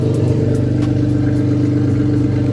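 A turbocharged Honda engine idles steadily, a low continuous rumble with an even pulsing rhythm, close and fairly loud throughout.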